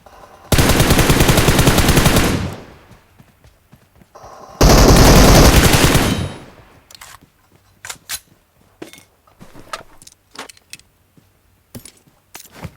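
Two long, loud bursts of automatic gunfire from the video game Valorant Mobile each rattle on for about two seconds, followed by scattered sharp single shots of varying loudness.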